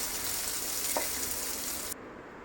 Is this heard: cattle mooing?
no